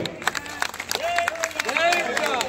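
Crowd applause at a Mudiraj community association swearing-in ceremony in Sircilla, clapping rising and falling over about two and a half seconds with voices and calls mixed in over it.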